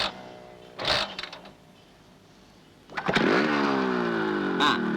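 A motorcycle engine starts with a brief burst, then settles into a steady, smooth running hum, fairly close and moderately loud, with a short blip of revving near the end.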